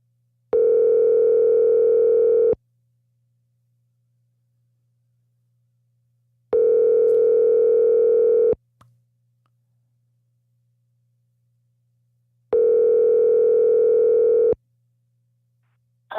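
A telephone line gives three long, steady tones of about two seconds each, spaced by pauses of about four seconds, over a faint constant low hum, while a call is placed back to someone.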